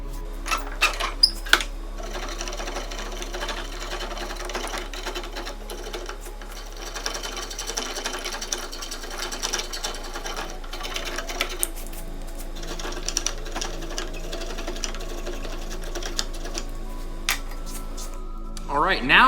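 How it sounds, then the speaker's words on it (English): Rasping hand file shaping the edges of a wooden mallet handle, a steady run of scratchy strokes close by with a few sharper knocks near the start and a voice talking over it. "shape all these edges with a file"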